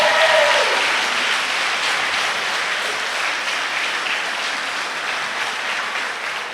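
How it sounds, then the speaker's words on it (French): Sustained applause from an audience at a school awards gala honouring students, a dense steady wash of clapping that stays loud throughout and tapers only slightly toward the end, with no talking over it. "Une bonne main d'applaudissement pour nos persévérants."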